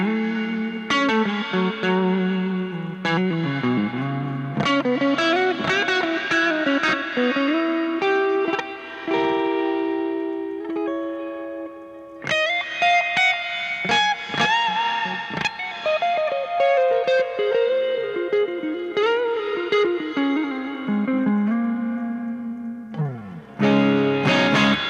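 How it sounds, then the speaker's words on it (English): Guitar played through a Joyo Atmosphere pedal on its Rewind reverse reverb setting, with notes swelling in backwards and gliding, pitch-shifting sustained tones that hold and overlap throughout, alone with no talking. "This is Rewind. Which, yes, it is a reverse reverb,"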